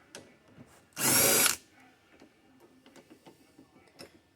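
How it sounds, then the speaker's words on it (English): A socket wrench works a 10mm bolt on a 2000 Chevrolet S10 Blazer: a loud half-second burst of whirring, followed by a string of faint, light ratcheting ticks nearby. "You kind of have to maybe move that around a little bit to get your socket down in there. To get this one 10mm bolt out."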